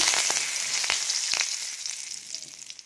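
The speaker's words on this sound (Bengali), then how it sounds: "আমি এই আলু ভাজার তেলের মধ্যে দুটো তেজপাতাকে একটু কেটে দিলাম" Two cut bay leaves fry in hot oil left from frying potatoes, a bright steady sizzle with a few soft crackles, close and gradually settling, no voices.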